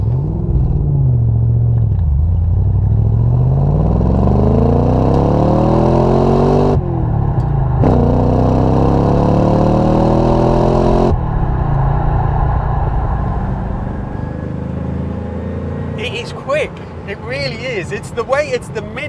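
Aston Martin DBS V8 revved hard toward the red line, its pitch climbing in long sweeping pulls broken by gear changes, loud and close, then settling to a lower rumble as a voice speaks over it.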